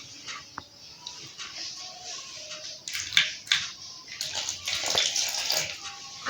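Donut dough is kneaded by hand with small amounts of water added in a home kitchen, giving wet squelching, slapping and sloshing sounds that grow louder and denser in the second half.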